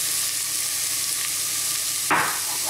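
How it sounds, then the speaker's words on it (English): Grated carrot and courgette sizzle steadily in a pan under a constant frying hiss, with a louder burst of crackle near the end as the vegetables are stirred. "I'm going to stir these around until they start to soften as well"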